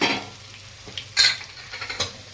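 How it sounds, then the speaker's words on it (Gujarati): Leftover roti pieces are tossed into a pan over a low flame with fennel seeds and stirred. Quick scraping and clattering strokes come close up, with a soft sizzle underneath, over a couple of seconds. "ગેસ ધીમો કરી અને આપણે આ રીતના જે રોટલીના પતરા બનાવે તે નાખી દઈશું."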